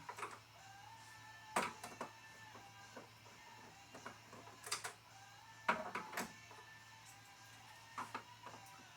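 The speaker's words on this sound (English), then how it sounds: "This magnetic tip on the screwdriver is really helping." A magnetic screwdriver unscrews the rear panel screws of a 55-inch TV. Faint, sparse clicks and ticks come at irregular intervals in a quiet room.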